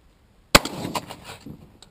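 A single sharp, loud shotgun blast firing Blind Side steel shot at 20 yards during pattern testing, with a short reverberant tail fading over about a second.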